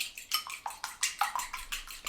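Rapid whisking of two eggs in a bowl, a quick run of about ten light clinking strokes close by, with no voices.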